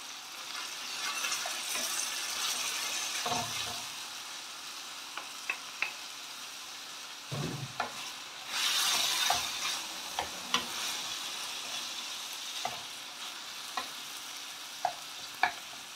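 Shrimp sautéing in a pan with vegetables, a continuous sizzle broken by repeated scraping stirs and occasional clinks of the utensil against the pan.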